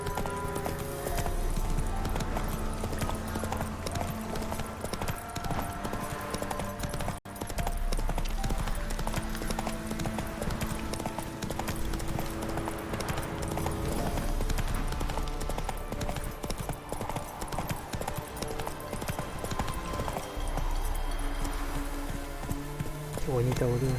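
Roach the horse gallops in The Witcher 3 with a steady clip-clop of hooves under a dense game soundtrack and ambience, and someone talks over it at times.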